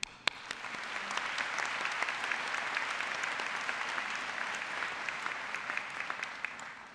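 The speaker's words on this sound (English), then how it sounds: "I'd like to start with a round of applause for the parents of the graduates." Steady crowd applause at a 2009 high school graduation ceremony for the graduates' parents, a dense wash of many hands clapping at a distance, sustained and even for several seconds with no voices over it.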